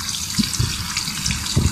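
Running water rinses a 125cc motorcycle chain, a steady close splashing stream with faint gurgles and drips throughout.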